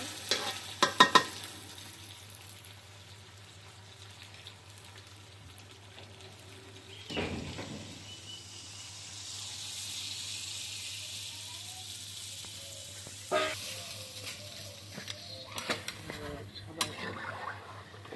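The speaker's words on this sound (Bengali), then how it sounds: "মাংস কষানো হয়ে গেছে জল দিয়ে দিব" Braised meat sizzles quietly in a pan as water is poured in, giving a few sharper bursts of hiss and clatter against a low background, with people talking at times.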